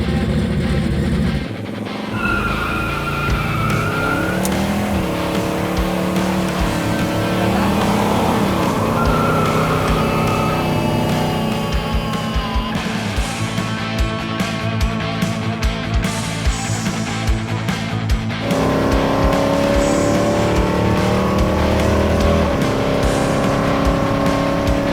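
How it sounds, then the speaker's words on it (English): A Chevrolet Nova, a classic car, is driven hard, its engine loud and steady throughout with revs rising and falling and tires squealing between, and a brief dip near the start. "You're driving a Nova."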